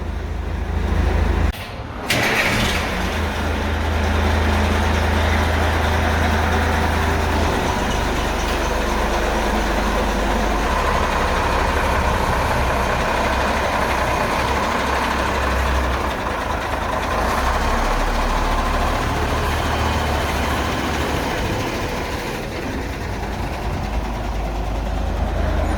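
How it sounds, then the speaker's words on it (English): A 5-ton M925A2 military 6x6 cargo truck, refitted for fire and rescue, fires up its big diesel after a brief crank and settles into a loud, steady, rumbling idle close by, with no talking. "you just lift this lever up, and that big diesel comes to life"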